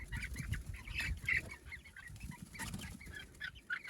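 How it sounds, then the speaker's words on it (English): Chickens squawk and cluck in short, agitated bursts close by, with scuffling and flapping noises in between. "we got a little rooster fight over here"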